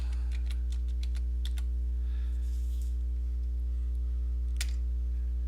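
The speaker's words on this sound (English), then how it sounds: "I go to Google and I type in images" Someone types a search on a computer keyboard, a burst of quick key clicks followed by a few isolated taps, over a steady electrical hum.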